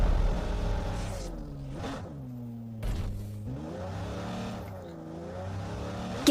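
A car engine in the mobile game BGMI drones steadily, with pitch rising and dipping as it revs and shifts, staying loud and close for several seconds with a couple of brief knocks and no talking.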